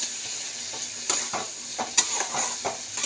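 Fish frying in oil in a pan, stirred with repeated scraping strokes over a steady close sizzle, each stir a short rasping sweep every half second or so.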